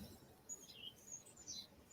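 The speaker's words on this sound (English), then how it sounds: "Sounds like a robin. We've got chickadees, robins." Birds call outdoors, a robin and chickadees among them: faint, sparse, high chirps scattered over quiet background hiss, heard from a distance with no talking.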